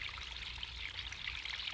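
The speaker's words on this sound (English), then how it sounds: "The water's draining off the field remarkably fast." Water drains off a flooded vegetable field in a steady waterfall-like rush, a continuous close pouring and trickling wash with no voices over it.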